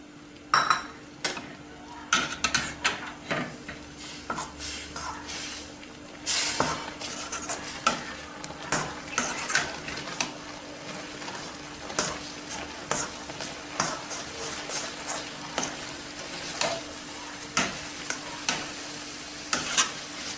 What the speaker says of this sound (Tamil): இப்போ மாவை கொஞ்சம் கொஞ்சமாக கொட்டி கட்டிப்படாமல் கிண்டிக்கங்க.